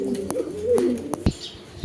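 Racing pigeons in a cage give soft, rolling coos, with a few short clicks and wing rustles close by.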